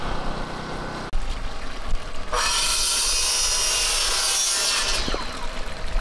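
Workers saw wood while building a gazebo near an artesian well, first a dull rumbling bed, then a bright, steady rasping cut for a few seconds that stops abruptly.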